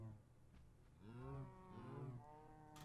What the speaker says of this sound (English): so we will feed these cows some wheat.